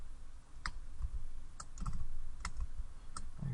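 Several distinct key presses on a computer keyboard, spaced apart and clicking softly, with faint background noise in between.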